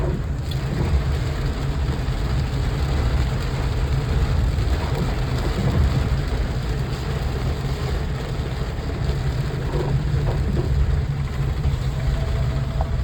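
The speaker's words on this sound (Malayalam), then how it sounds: "മഴയുടെ ശക്തി അധികരിച്ച് വന്നുകൊണ്ടിരിക്കുക." Heavy rain roars continuously with a deep low rumble beneath, loud and unbroken throughout.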